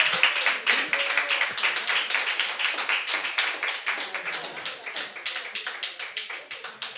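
A church congregation claps strongly for the Lord during a service, a fast, loud, rhythmic burst of many hands clapping together that holds steady throughout.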